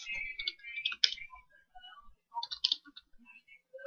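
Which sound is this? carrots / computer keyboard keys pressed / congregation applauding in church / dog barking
computer keyboard keys pressed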